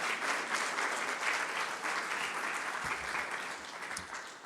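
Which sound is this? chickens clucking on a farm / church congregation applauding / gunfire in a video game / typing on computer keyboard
church congregation applauding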